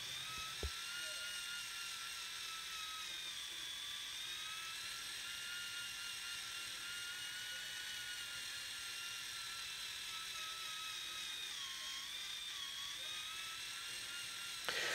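A steady, high-pitched motorized whine runs continuously and loud, a drill spinning a polishing pad against the clear coat paint of a C7 Corvette Stingray, with slight pitch wobbles throughout.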